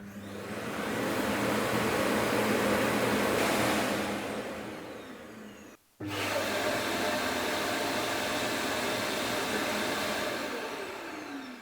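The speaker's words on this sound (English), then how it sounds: "So that's emptying the dustbin from the robot vacuum cleaner into the main docking station." A Roborock Q Revo robot vacuum dock auto-emptying the dustbin: a loud, steady whooshing roar of suction runs for several seconds, briefly cuts out, then resumes just as strongly; no voices.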